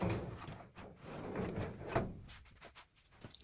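LG dryer drum lifted off its rollers and slid out, producing a run of soft hollow thumps, rubbing scrapes and light knocks of metal, close and fairly quiet with no talking.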